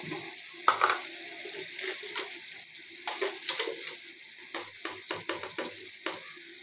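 A spoon scrapes and stirs baine fish curry with turmeric in a pan, a quiet, gently sizzling mixture marked by soft, irregular stirring strokes.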